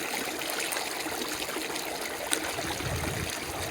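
Irrigation water runs steadily into a wheat field sown about three weeks earlier, for its first watering. The flow makes a continuous rushing, trickling stream sound close by, with no voices.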